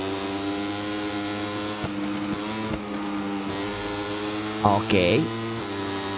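A Moto3 motorcycle engine in the MotoGP 24 racing game drones as a steady, buzzy tonal whine with shifting pitch under a rev change near the end, while someone speaks briefly over it.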